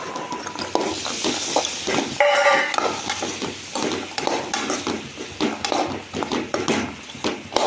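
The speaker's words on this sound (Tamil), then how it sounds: "அதே மாதிரி இப்போ வேவிச்சு வச்சு சுண்டல் வந்து கொட்டுறோம்." Boiled chickpeas for sundal are tipped into a pan of fried onions with a sudden clattering rush, then stirred with steady scraping and a light sizzle. The stirring goes on in uneven strokes, and no voices are heard.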